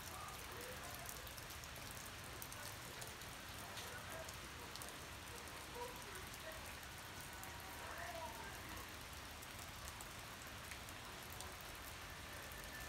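Rain from a storm falls outside, a broad, steady wash of drops on surfaces that runs unbroken at low level with faint scattered ticks and no clear voices.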